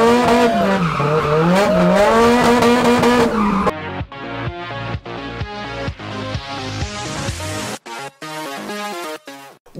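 Drift cars circling the pits at the Driven Winnipeg 2018 car show, a loud revving engine with wavering pitch giving way to repeated sharp gear shifts and bursts of acceleration, close by, with no speech.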